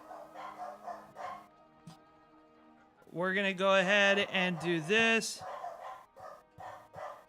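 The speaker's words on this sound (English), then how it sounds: "Let me see what they're barking at." Dogs bark in a few loud, close, harmonic bursts in the middle, framed by someone talking before and after.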